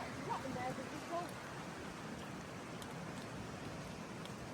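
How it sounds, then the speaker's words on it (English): Light rain falls outdoors by an old Irish cottage, a soft, faint, even patter and hiss with a few brief sounds near the start and no clear voices. "It's starting to rain again."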